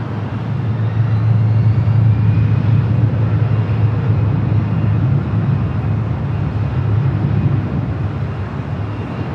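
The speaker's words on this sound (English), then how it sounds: "let's get this Delta A319. Next takeoff on the 24 left." A Delta Airbus A319 takes off on runway 24 left at LAX, a steady, loud jet roar with broad rumbling noise that holds for the whole stretch, far-off and continuous.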